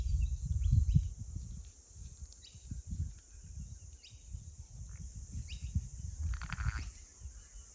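Sheep and a newborn lamb in a grassy field give a few faint bleats amid close rustling and handling noise, with soft insect and bird sounds in the background.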